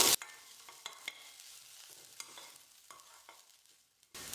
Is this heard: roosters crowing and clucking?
no